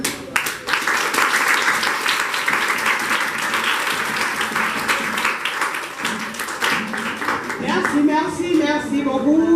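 A camp audience bursts into applause for the staff, dense clapping that starts abruptly and fills the room, loud and sustained, with talk and cheering rising near the end.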